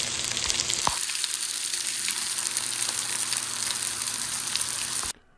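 Brussels sprout halves fry and get tossed in a hot pan with bacon, giving a steady, loud, close sizzle with a sharp scrape near the start before cutting off abruptly at the end.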